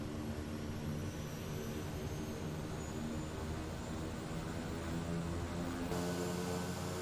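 Kodiak 100 turboprop engine set to full condition in the MSFS2020 flight simulator: a steady, moderately faint drone with sustained tonal hum and a whining high layer, unchanging throughout with no voices.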